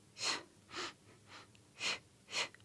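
Five short, breathy exhalations in an even rhythm during a Pilates hip exercise, close and fairly soft, with quiet gaps between each puff.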